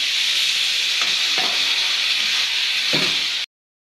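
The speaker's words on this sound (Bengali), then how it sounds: "তার জন্য একটু মশলাটাকে একটু ফ্রাই করে নিতে হবে" Spice masala for a gravy frying in a pan, a steady loud sizzle with a few soft scrapes of stirring, cutting off abruptly at the end.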